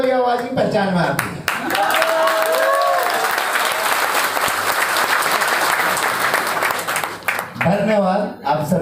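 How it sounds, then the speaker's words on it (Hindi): An audience at a live speech event in Ahmedabad bursts into sustained, dense applause lasting several seconds, framed by someone speaking before and after the clapping. "मुझे केवल ताली वाली आवाज ही पहचान में आती है।"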